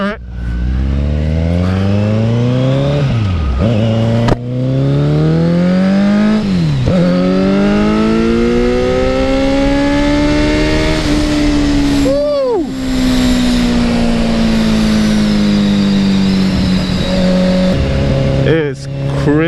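A Kawasaki Z900 motorcycle engine revs loud and close throughout, pitch climbing and dropping with repeated throttle blips and gear changes, a sustained rising whine in between.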